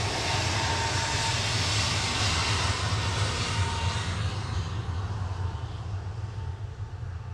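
An Airbus A321neo airliner departs Manchester Airport for Fuerteventura, its engines giving a loud, steady broadband roar with a low rumble that holds throughout and eases slightly near the end.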